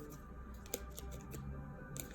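Cards being shuffled by hand, heard as faint, soft riffles and scattered light clicks, close and quiet.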